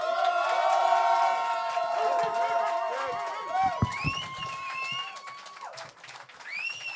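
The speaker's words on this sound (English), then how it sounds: "Give him a round of applause." A live audience at the Street Fight Radio call-in show erupts in cheering, whoops and applause, a dense, loud crowd roar that carries on for several seconds with shouted voices rising above it.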